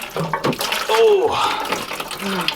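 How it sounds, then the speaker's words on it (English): Water pouring and splashing out of a removed drinking-water filter housing, a close, loud gush with a person's voice over it. "When this comes off, there's probably going to be a good amount of water that comes with it."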